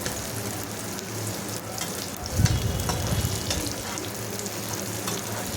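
Garlic and onion sauté in a pan for a garlic chutney, with a steady close sizzle and a burst of louder crackling and stirring midway, and no voices.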